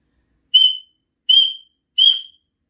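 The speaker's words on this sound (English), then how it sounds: "she got into a terrible rage and blew 3 times upon her silver whistle" Three short, shrill blasts on a silver whistle sound in even succession, each sharp and bright, separated by silence.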